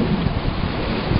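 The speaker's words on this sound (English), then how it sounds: "Wind." Wind blowing across a fishing boat, a continuous rough buffeting rumble against the microphone, fairly loud and unbroken.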